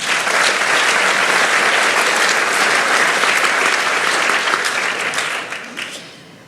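Audience applause at a university graduation ceremony, a dense steady clapping from a large crowd that holds for about five seconds and then fades out.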